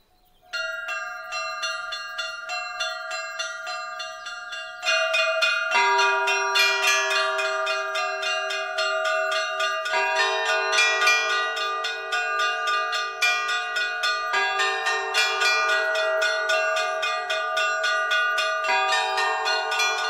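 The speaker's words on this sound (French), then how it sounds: "Le son des cloches annonce le début de la messe du soir." Church bells of the Agiou Nikolaou Varson monastery in the Peloponnese peal for evening mass in a steady, overlapping rhythm, several bells ringing together clearly and loudly with no voices.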